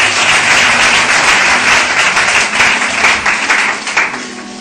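A church congregation breaks into loud, sustained applause, many hands clapping together in a dense wash close by, with faint voices mixed in, fading slightly toward the end.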